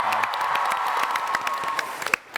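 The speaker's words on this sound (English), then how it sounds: "Big round of applause for Kim." Audience applause at a TwitchCon Amsterdam panel, steady dense clapping throughout with a few sharper individual claps near the end, no speech over it.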